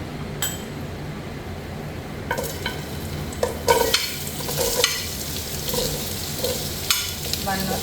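Onion frying with fenugreek in a pan and stirred, a soft steady sizzle with sharper scrapes and light clinks of a utensil against the pan, close, no talk.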